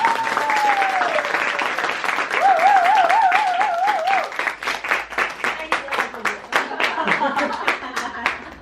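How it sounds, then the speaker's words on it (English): An audience claps loudly after a senior student's final marketing presentation, with dense crowd applause, a few whistles near the start, and the clapping thinning toward scattered claps. "So give her a big round of applause, please"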